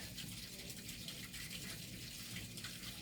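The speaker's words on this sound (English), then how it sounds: "I really do apologize for the sound of water in my basement" Water running steadily through basement plumbing from a laundry machine, a continuous broadband hiss and gush at constant moderate level, with no voices.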